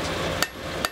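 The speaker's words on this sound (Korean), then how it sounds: "망치 소리" Two sharp, ringing hammer blows on hot metal in a blacksmith's forge, spaced about half a second apart, with steady background hiss between strikes and no talking.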